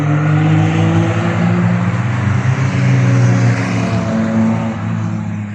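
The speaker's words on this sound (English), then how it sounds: "We've got a little gaggle of Lotuses coming up here with the Porsches too." Lotus sports cars and Porsches on the Cadwell Park race track give a loud, steady engine drone as a group goes past, with no talking.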